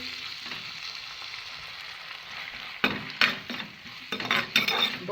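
A frying mixture with tomato ketchup is stirred in a pan, giving a continuous hiss of sizzling, joined midway by several scraping strokes and light clinks of the utensil against the pan.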